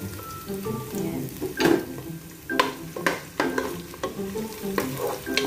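Ginger stirred in a cooking pot while making shrimp sinigang, soft scraping and clinking of the utensil against the pot over a light sizzle, with a few sharper knocks, close and fairly quiet.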